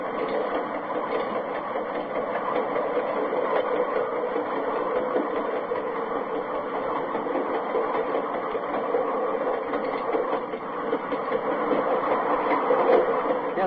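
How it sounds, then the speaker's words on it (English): A train rolls steadily past a grade crossing, a continuous rumbling clatter holding at an even, fairly loud level throughout with no horn standing out. "This is the sound of a train passing a grade crossing."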